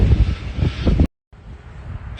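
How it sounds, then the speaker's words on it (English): Strong outdoor wind buffets the microphone in loud, low rumbling gusts, cuts out briefly, then returns as a softer steady roar beside a Chevy van. "It's windy like crazy today."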